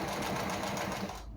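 A sewing machine runs fast and close while backstitching the seam of a classic skirt, a dense continuous whirring burst that stops abruptly.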